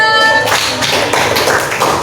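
Clapping breaks out in a classroom, a dense burst of quick, close hand claps from a small group that carries on steadily for a couple of seconds.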